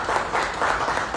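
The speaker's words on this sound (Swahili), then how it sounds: "Naomba tumpigie makofi." Audience applause at a marathon sponsor and prize event, a dense steady wash of many hands clapping that holds at an even level throughout, with no break.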